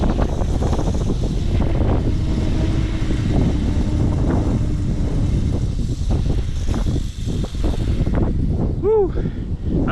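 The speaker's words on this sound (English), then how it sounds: "Here comes the wind." Strong wind gusts of up to 70 miles per hour roar in Kingsport, Tennessee, buffeting the microphone in a constant loud rush that swells and ebbs, with a brief whistling tone near the end.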